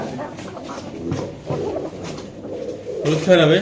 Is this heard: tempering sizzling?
no